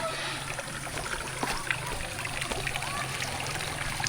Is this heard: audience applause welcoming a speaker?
no